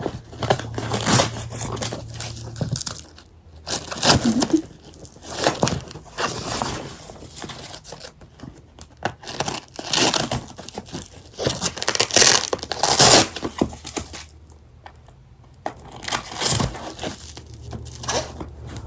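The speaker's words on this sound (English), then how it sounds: "So just get tight and wrap around with the Velcro." A Velcro strap is pulled and wrapped around a walking boot, with repeated loud ripping, crinkling bursts up close, separated by brief pauses.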